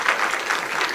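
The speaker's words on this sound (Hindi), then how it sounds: "कृष्णा सेन भारती जी के सम्मान में एक" Audience at a Chhattisgarhi poetry recital claps for a poet: a steady, dense burst of applause that fills the whole brief moment at even loudness.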